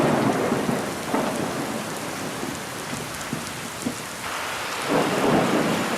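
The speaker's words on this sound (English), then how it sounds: "it's raining pretty good here" Heavy rain pours outdoors during a wild turkey hunt, a dense steady hiss of drops on surfaces with low rumbles of thunder rolling in the background, loud and continuous with no voices.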